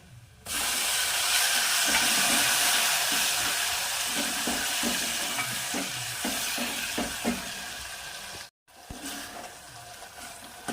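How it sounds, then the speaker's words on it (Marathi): Tomato frying in oil with red chilli powder and turmeric for an eggplant and pigeon pea curry makes a loud, continuous hissing sizzle, with repeated stirring scrapes and a brief break near the end. "आता टोमॅटो थोडं तेलामध्ये पकू द्यावं लागते"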